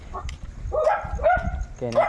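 A dog gives a few short, sharp barks and yips close by, with brief pauses between them and some background noise.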